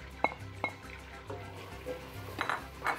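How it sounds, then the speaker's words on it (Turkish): Onions sautéing in melted butter in a pot, with a soft, low frying sound under scattered clinks and scrapes of a utensil against the pot, no talking. "Soğanlarımız karamelize olana kadar kavuruyorum."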